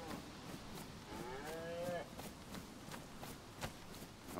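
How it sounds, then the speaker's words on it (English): A cow in the DayZ survival game moos once, a short bellow near the middle, over a bed of quiet rustling and footsteps. "There's the cow."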